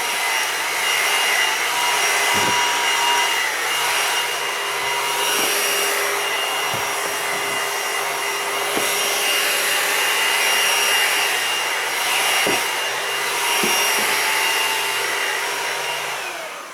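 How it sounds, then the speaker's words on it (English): A cheap cordless vacuum cleaner whines steadily and close by, with repeated brief knocks and rattles as it sucks up shavings from a boat speaker install; no one speaks. "I'm going to take my vacuum. I've got just a cheaper cordless vacuum. Vacuum this all up."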